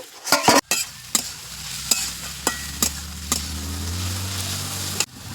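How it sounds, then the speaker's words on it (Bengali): Radish greens being stir-fried with garlic and onion in a pan give a steady sizzle, broken by sharp spatula scrapes and stirring knocks at irregular intervals, close and clear with no talk. "দিয়ে দেবো ওই শাকগুলো, দিয়ে ভালো করে নেড়ে চেড়ে নেব।"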